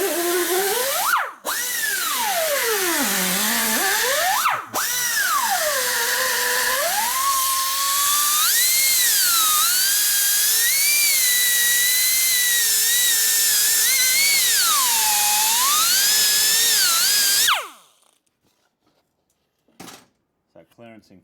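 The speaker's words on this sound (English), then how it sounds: "I'm going to grind the case where it's in the way." A loud, continuous high-pitched grinder whines against the metal engine case of a 1941 74ci Knucklehead motorcycle, its pitch rising and falling as pressure changes, with brief cut-outs before stopping abruptly near the end.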